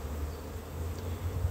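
Honeybee foragers buzz around a hive in spring, a steady low hum of many wings close by, constant and unbroken.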